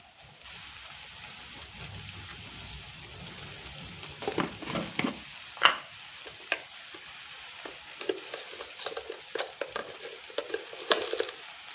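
Capsicum and potato frying in a pan on a low gas flame, stirred with a spoon: a steady soft sizzle broken by scraping stir strokes that come more often in the second half, with no talking.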